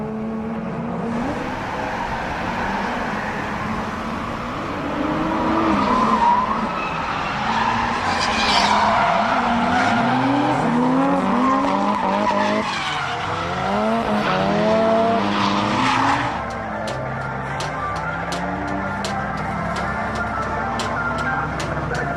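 A Toyota JZX110 drift car with a big IHI turbo at Nikko Circuit, its engine surging and revving through long tire-squealing slides that rise and fall in loudness, followed by sharper engine notes and staccato pops near the end.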